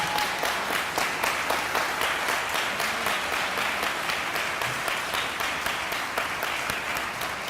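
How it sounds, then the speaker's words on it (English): An audience at a ceremony honoring the Oak Ridge 85 and Clinton 12 school integration gives sustained applause, an even, continuous wall of clapping from many hands with no talk over it. "Can we give these people a round of applause,"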